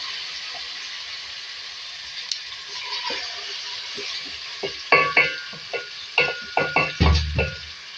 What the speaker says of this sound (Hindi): इसको मिक्स करेंगे, तरीके से फ्राई करेंगे।